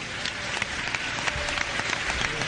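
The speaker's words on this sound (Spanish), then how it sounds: "la comunidad del Quibdó le aplaude" A crowd from the Quibdó community claps steadily at an outdoor gathering for families of rescued people, a dense continuous wash of applause with scattered sharper individual claps standing out.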